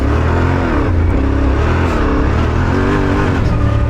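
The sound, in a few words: Yamaha Tenere 700 Rally motorcycle engine revving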